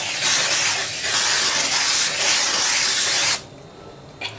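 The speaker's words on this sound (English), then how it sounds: "Now I'll be adding in my non-stick spray." Non-stick cooking spray hisses from a can in a steady, close, continuous burst for about three seconds, then cuts off abruptly, leaving near silence.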